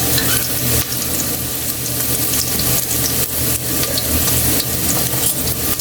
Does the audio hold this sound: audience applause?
no